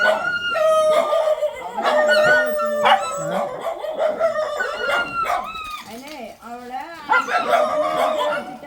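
Several rescued street dogs at a home shelter bark and howl together: overlapping loud barks, rising and falling wails close by, with a rooster-like crow mixed into the chorus.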